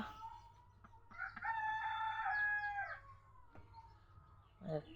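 A rooster crows once, a long, drawn-out call close by, followed by a few short clucks from chickens near the end.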